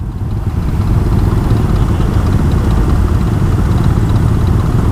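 Yamaha Aerox 155 scooter engine running steadily during a night ride, a loud continuous low drone with constant throttle and no voices.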